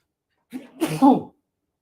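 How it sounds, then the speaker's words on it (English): A single sharp sneeze, close and loud: a brief inhale followed by an explosive burst, then silence. "Pardon me. I sneezed."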